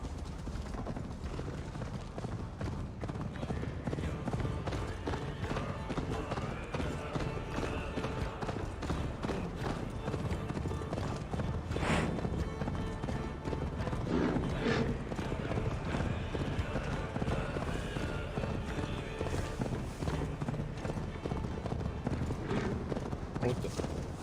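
A horse gallops in Assassin's Creed Valhalla, steady clip-clop hoofbeats running throughout with an occasional neigh, under background game sound and music.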